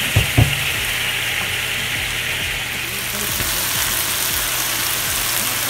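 Onions sizzle in a pan with vinegar for Dominican mangu, a loud, steady close frying hiss with a few light clinks at the start.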